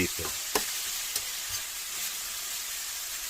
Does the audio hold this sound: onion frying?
yes